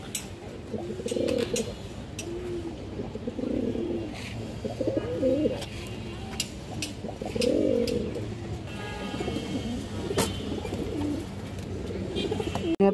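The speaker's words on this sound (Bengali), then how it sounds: "নরের ডাকটা দেখেন" A large male Kaldam pigeon, a high-flying breed, gives repeated low throaty coos in rhythmic bursts, close and clear, over faint background noise and occasional clicks.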